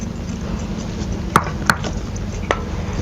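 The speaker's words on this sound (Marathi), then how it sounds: "आता आपल्याला ह्यामध्ये ना लसूण वगैरे बारीक करून घ्यायचं" A knife chops garlic finely for traditional Maharashtrian dhapate flatbread, with three crisp, close knocks on a board standing out from a faint kitchen background.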